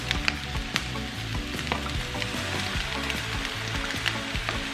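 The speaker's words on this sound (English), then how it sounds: "we're just going to saute it for a little while" Rice with salt and soy sauce sautéing in a crowded pan, a dense even sizzle close up with faint rhythmic stirring scrapes and occasional light taps, no voices.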